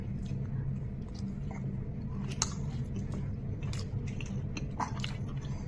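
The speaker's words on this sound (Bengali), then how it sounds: "এই যে ফার্স্ট বাইট।" Soft, close chewing of a bite of luchi with chholar dal, with moist crunchy bites and squishy mouth noises recurring irregularly over a steady background hum.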